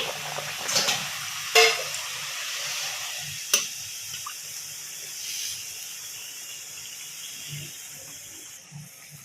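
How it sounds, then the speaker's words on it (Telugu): Thin sawari dough frying in hot oil over medium heat, a steady soft sizzle and hiss throughout, with a few sharper clinks and stirring scrapes close by. "ఆయిల్ మరీ హీట్ కావద్దండి, కొంచెం మీడియం హీట్లోనే మనం కాల్చుకోవాలి."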